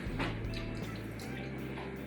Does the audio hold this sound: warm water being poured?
yes